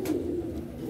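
A short, low, soft coo from a red-eyed pigeon, heard close by.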